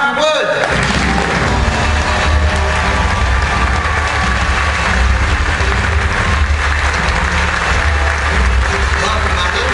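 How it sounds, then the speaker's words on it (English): Loud applause and some cheering from a large crowd welcoming a guest at a Star Wars Weekends stage event, sustained and dense, with a low rumble and chatter mixed underneath. "please clap loudly for Mr. Matthew Wood"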